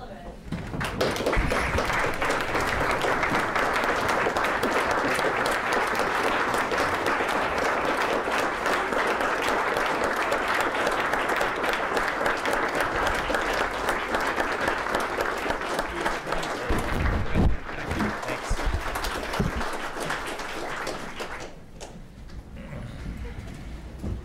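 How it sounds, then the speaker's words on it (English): Sustained audience applause fills a 2016 joint session in Alaska welcoming U.S. Senator Dan Sullivan, a dense, loud clapping roar holding for about twenty seconds before thinning out near the end. "Thank you for that nice round of applause."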